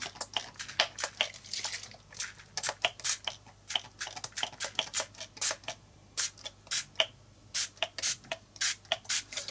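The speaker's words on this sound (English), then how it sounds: "And I'm going to spritz straight down." Spray bottle spritzing paint onto a messy art journal page: many short, sharp hissing bursts in quick irregular succession, close and fairly loud, with a faint low hum beneath and no talking.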